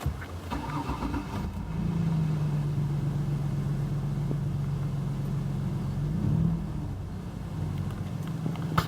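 A 1992 Ford Taurus LX station wagon's 3.8L engine runs nearby with a low, steady drone, swelling slightly as it is revved, then easing back toward idle.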